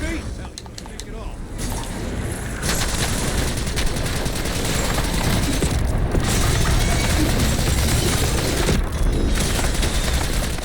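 The Maelstrom weapon fires in Black Ops 6 Zombies, a dense, continuous barrage of loud crackling shots that runs for several seconds with a short break near the end, with game noise underneath.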